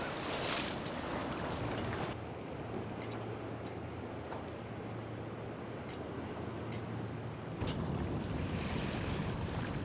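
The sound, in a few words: waves across the bay heard from a boat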